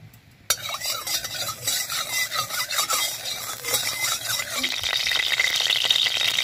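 Mustard oil in a wok in a Bangladeshi village kitchen, a sudden loud onset followed by continuous sizzling and scraping stir noises that grow brighter toward the end, close and alone.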